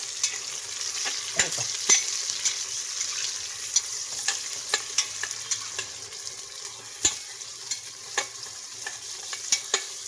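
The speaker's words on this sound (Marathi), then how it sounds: "थोडीशी हिरवी मिरची टाकली कांद्याबरोबर" Onions and green chilies frying in a pan for mutton biryani, a continuous soft sizzle punctuated by repeated sharp clicks and scrapes of a spatula stirring, close and unaccompanied by speech.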